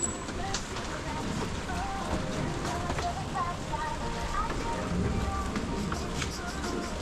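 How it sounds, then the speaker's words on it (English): Steady rain falls outdoors in a humid setting, a dense continuous patter of drops on surfaces that holds an even, moderate level throughout with no clear pauses. "It's raining here, so it's kind of humid right now."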